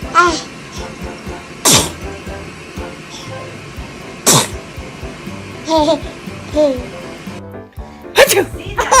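Babies sneeze in a run of sharp, bursting sneezes spread across the clip, each a sudden loud puff, with adult voices and baby babbling reacting around them.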